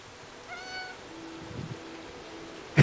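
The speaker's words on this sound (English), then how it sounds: "Cats interact curiously with cats on the screen." A cat meows in the video game Stray: a clear, moderately loud tonal mew, then a lower drawn-out cry with quieter murmurs, ending in a short sharp noise.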